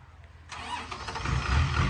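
A Hino dump truck's diesel engine cranks and catches after a quiet moment, then settles into a rough, rising idle rumble close by.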